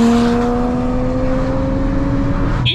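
A 1983 Toyota Celica with a Toyota 1JZ 2.5-liter inline-six and a big single turbo runs up close, giving a loud, steady droning engine note with strong harmonics before a brief whooshing sound at the very end.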